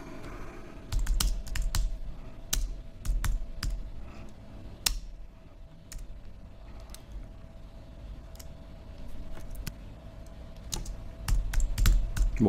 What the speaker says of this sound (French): je tape n'importe quoi